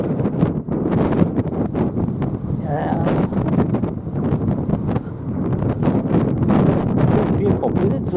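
Steady wind buffeting a camera microphone on the Northumberland coast, a continuous low rumbling roar with gusty bursts that fills the whole clip, with a faint bird call briefly audible through it.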